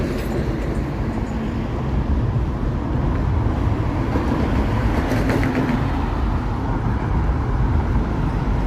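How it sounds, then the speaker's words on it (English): A low, steady rumble of a train passing beneath a viaduct in Toronto, broad and continuous throughout, with no talking. "I can hear a train going underneath the viaduct here."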